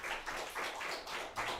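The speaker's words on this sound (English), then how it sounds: "And give Mike another round of applause." Audience applause for a performer named Mike at the close of a live show, a steady broadband wash of clapping at moderate level with rhythmic swells, no one speaking over it.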